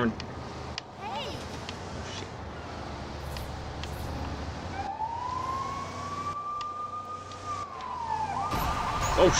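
A thin Lego City toy emergency vehicle siren tone rises and holds steady for a few seconds, then warbles, amid background noise and handling sounds.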